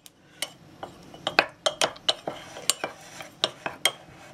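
A spoon clinks against the side of a dish while stirring starch into water, a quick, uneven series of sharp taps, close by, with no talking.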